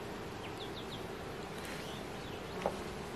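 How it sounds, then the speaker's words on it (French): Honey bees buzz outside a hive as foragers return after a brief rain shower: a soft, continuous hum with a few faint bird chirps over it. "toutes les abeilles qui étaient en train de butiner rentrent présentement"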